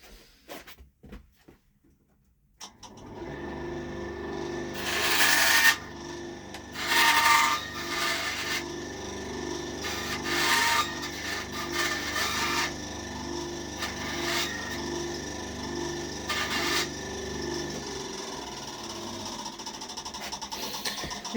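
A bandsaw trims the end off a bullet whistle, running with a steady motor hum while the blade rasps through the piece in several loud, uneven bursts over about twenty seconds, close by and with no talking.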